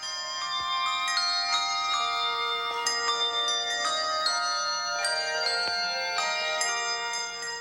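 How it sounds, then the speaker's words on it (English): Handbells played by a bell choir in a concert ring out a bright melodic sequence, several clear tones overlapping and sustaining, close and resonant. "And the bells, well, we've got the bells."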